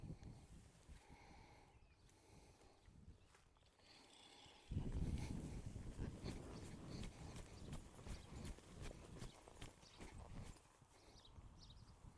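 Hoofbeats of a horse moving at a lope, a steady rhythmic clip-clop close by that picks up and grows louder partway through, with faint rubbing of tack alongside.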